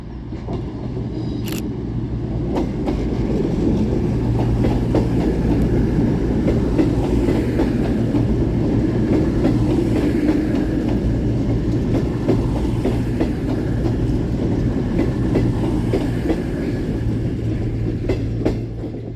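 Class 221 unit 221117 arrives empty at Crewe railway station, a loud, steady rumble of wheels and engine with rhythmic clickety-clack over the rails, one brief high squeal near the start.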